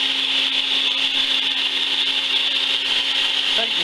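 A sausage stuffing machine fills casings with pork and wild garlic sausage, giving off a steady, even mechanical whir with a constant hum and no breaks.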